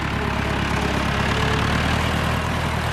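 A tractor engine runs steadily at idle, a continuous low, even rumble that stays close and loud throughout with no voices over it.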